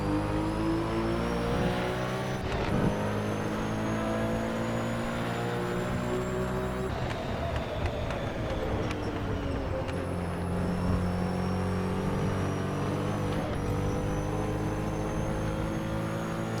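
Porsche 917K racing engine in Assetto Corsa, loud and continuous, with downshifts blipping the revs up and gear changes dropping them, the pitch rising and falling in long sweeps, close and alone with no voices.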